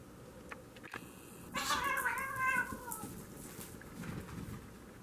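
Pet cats meow indoors, one drawn-out, wavering meow up close with softer rustling and a quieter cry afterward, no talking.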